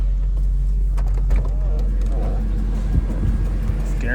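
A 2003 Hummer H2 with 143k miles and an exhaust leak idles with a low, steady engine rumble throughout. Faint clicks and small interior noises sit over it, and someone speaks quietly nearby.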